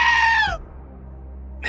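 A goat bleat plays as a short, loud, wavering cry for about half a second, then a low background hum follows before another bleat starts at the very end.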